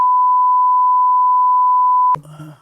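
A single steady electronic censor beep holds for about two seconds, then cuts off abruptly into a brief burst of voice.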